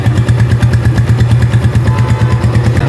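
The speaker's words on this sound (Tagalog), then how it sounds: "Testing natin kung ano yung tunog. So yan. Yan, marinig natin yung kanyang makina." A 2023 Microbike EXT 150 motorcycle idles close by, its engine giving a steady low rhythmic chugging with a faint mechanical clatter, loud and alone.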